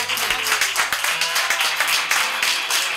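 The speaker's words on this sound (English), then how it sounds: "Let's give Bill a round of applause" Live show audience applauding, a full, steady roar of many hands clapping at once, loud and close, with a few voices faintly underneath.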